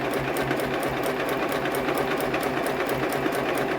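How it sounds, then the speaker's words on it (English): A sewing machine stitches a pillow made from drying mats, running in a fast, even mechanical chatter that stays loud and close throughout with no talking. "Alright, I'll backstitch this corner."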